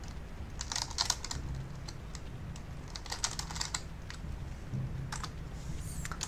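Rapid clusters of clicky computer keyboard keystrokes come in uneven bursts with short pauses, close and moderately quiet over a soft background hum.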